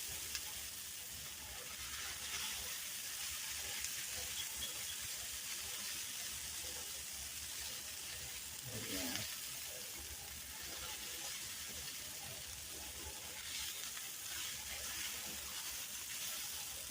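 Leftover hash browns fry in a pan with a soft, steady sizzle that runs throughout, and a brief stirring stir-up breaks through near the middle.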